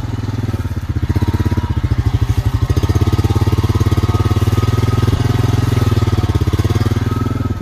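A four-wheeler ATV engine runs steadily nearby, a loud rhythmic putter that settles into a fast even idle throughout, with no voices.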